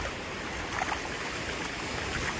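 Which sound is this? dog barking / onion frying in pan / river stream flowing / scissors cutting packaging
river stream flowing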